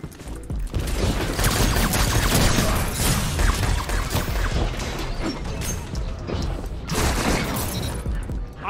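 Shotgun fire in the video game Destiny Trials, part of a dense, loud barrage of blasts, crashes and mechanical clatter that runs almost continuously, with a voice occasionally audible beneath.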